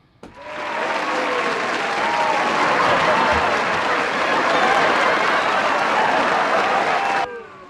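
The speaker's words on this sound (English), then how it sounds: "Sorry, I tried to do the boo, but all the claps came out." Applause sound effect played during a live stream, a dense burst of crowd clapping that starts abruptly, holds steady and loud for about seven seconds, then cuts off sharply.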